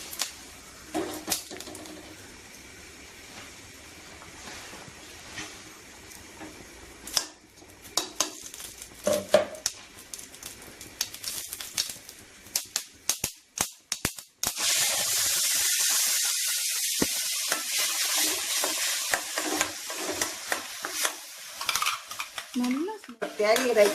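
A ground tomato chutney mixture goes into a hot pan and is fried and stirred, with scattered clinks and scrapes of a utensil against the pan, then a loud, steady sizzle that bursts up midway and continues close by.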